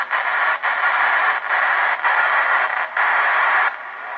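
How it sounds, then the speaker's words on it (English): Radio reception hisses with loud, steady static broken by a few short dropouts, a continuous band of noise with no voices over it. "Kind of static sound noise, guys."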